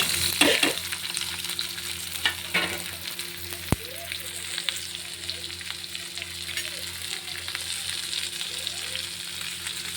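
Chopped onions frying in a pan for a Nagpur-style dal kanda dish, a steady close crackling sizzle with a few louder spatters and stirring scrapes throughout, no talking.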